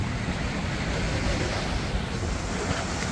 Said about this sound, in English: She's a pretty wild sea.